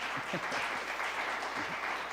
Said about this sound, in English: You guys can clap and say hi to everybody.